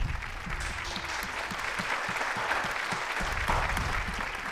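Audience applause at a firearms talk show casting call as a model walks onstage, a steady dense wash of clapping from a small studio crowd that holds evenly throughout.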